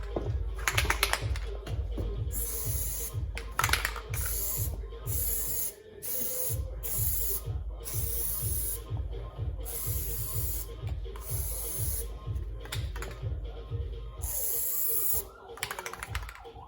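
Aerosol can of Plasti Dip rubber coating sprayed onto Toyota 4Runner emblems, a run of short hissing bursts with brief pauses between them, close and steady, over faint background noise.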